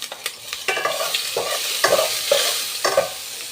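Ginger hits a hot pan and is stirred for chicken tinola, giving a steady close sizzle broken by several sharp scraping stirs and clacks of the utensil against the pan.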